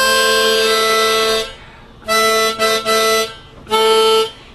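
Harmonic minor harmonica playing a three-note tongue-block spread, with holes 2, 3 and 4 blocked and 1 and 5 sounding; three sustained reedy chords, close and loud, the first long, then one with brief breaths in it, then a shorter one.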